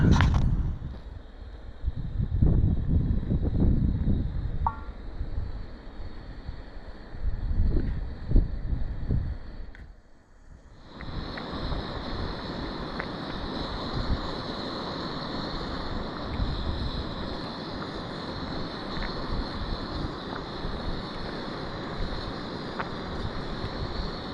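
Wind blowing outdoors around a cooking setup, a rough, gusty rumble buffeting the microphone that drops away briefly, then returns as a steadier roar with a faint high hum, no talking.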